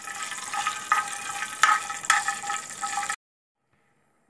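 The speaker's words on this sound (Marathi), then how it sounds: "तूप गरम झाले, मी त्याच्यामध्ये आता काजू फ्राय करून घेणार आहे" Cashews fry in hot ghee in a pan with a dense, bubbling sizzle and small crackles, close and steady for about three seconds before cutting to silence.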